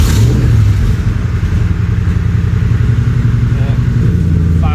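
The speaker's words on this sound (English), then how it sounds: "So this is a pretty cold start. I haven't cranked it in a couple of days." A car engine fitted with an Edelbrock Victor Jr intake idles loudly and close up after a cold start, having sat unused for a couple of days, with a steady low rumble throughout and a voice speaking over it.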